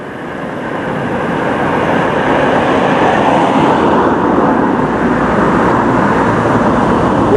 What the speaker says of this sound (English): it's a lot noisier, or more noisy rather, because of the traffic